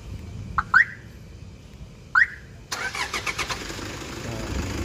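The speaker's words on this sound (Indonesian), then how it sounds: "kita akan tes untuk menghidupkannya dari remote" A Toyota Fortuner TRD chirps twice from its keyless remote system, then its engine cranks and catches into a steady idle, heard nearby outdoors.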